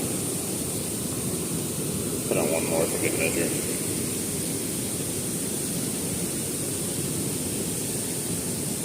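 Loud, steady rushing of water pouring over a dam fills the whole stretch as a constant broadband roar, with someone speaking briefly over it.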